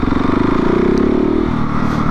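A KTM 690 SMC R single-cylinder motorcycle engine revs hard nearby, a loud rising buzz with a throbbing beat that climbs and then eases off as the bike lifts into a wheelie.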